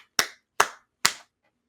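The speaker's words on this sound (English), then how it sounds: "I just have to give a round of applause to the creators of Minecraft" Three sharp hand claps ring out alone, close and evenly spaced about half a second apart, each with a short decay into silence.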